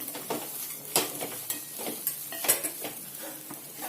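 Bitter gourd fries dry in a pan with coconut chili powder, sizzling softly as a spoon stirs and scrapes it in close, uneven strokes, with no voice heard.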